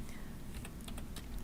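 Quiet keystrokes on a computer keyboard, a short burst of several light, irregular taps close by over a faint background hum.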